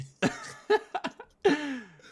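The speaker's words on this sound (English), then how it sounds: "Sorry, I actually had to cough." Several harsh coughs in a row, close by, with short pauses between them and a throat-clearing rasp at the end.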